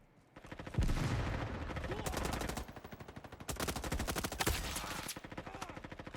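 Rapid automatic gunfire and blasts from the Roblox Front Line shooter game crackle in dense bursts with short gaps, loud and close, with a voice briefly heard underneath.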